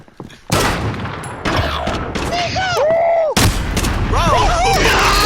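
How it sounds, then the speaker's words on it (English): Gunfire bursts in Call of Duty Modern Warfare, a loud sharp volley of repeated shots followed by booms and further rapid fire, with whooshing game effects mixed in throughout. "I'm taking fire."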